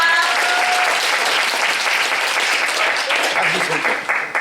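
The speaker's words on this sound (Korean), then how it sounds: "여러분 박수 한번 주시겠습니까?" Applause fills a hall at a Korean charity festival for a pastor who has come with Christmas gifts for students, loud sustained clapping from a large crowd that fades slightly toward the end.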